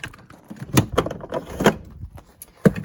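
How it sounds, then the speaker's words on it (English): Bottom drawer of a handyman's tool truck sliding open, with a few distinct close clunks and rattles of metal drawer hardware and tools, separated by brief pauses. "let's see what's in this bottom drawer here."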